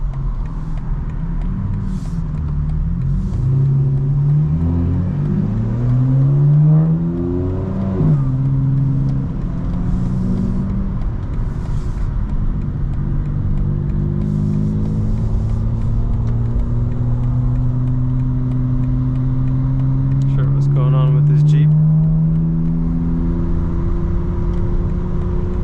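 A 2025 BMW M4 accelerates hard with its exhaust valves open, heard from inside the car. A deep engine roar climbs through repeated gear pulls, with loud rumbling and rising and falling revs over a constant road drone.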